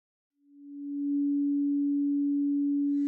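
A pure, steady sine tone at a solfeggio healing frequency, pitched a step above 174 Hz, fades in softly and then holds loud and unbroken with no other sound.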